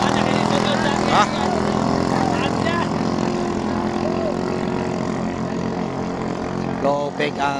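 A racing pump boat's engine drones loud and close without a break, its rough, uneven tone shifting slightly toward the end, with voices talking over it.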